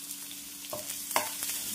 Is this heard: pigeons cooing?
no